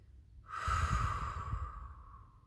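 One deep, slow breath drawn in and let out during a guided meditation, close and breathy, swelling then tapering off with no talking.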